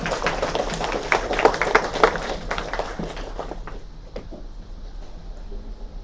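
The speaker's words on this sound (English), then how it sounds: "please give Josh a big round of applause." A seminar audience claps for a departing presenter, a modest spread of applause that peaks early then thins out to a few scattered claps and room noise.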